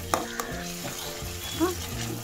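Prawn malai curry masala frying with mustard paste in a pan, a close, steady sizzle broken by a few sharp spoon scrapes and clinks.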